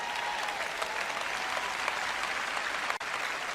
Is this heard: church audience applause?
yes